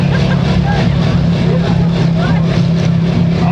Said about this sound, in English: the other entrants are keeping their engines revving.